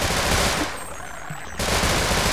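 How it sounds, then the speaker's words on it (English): Rapid automatic shotgun fire from an enemy in the video game Half-Life Sven Co-op: loud, dense blasts that drop away briefly in the middle, then resume as a steady barrage. "this guy's like an automatic shotgun"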